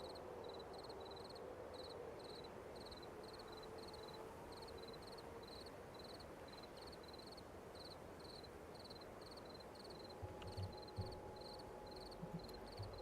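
Crickets chirp in steady, evenly spaced pulses over a soft low ambient bed in a video game night setting, faint and continuous, with a few small low thumps near the end.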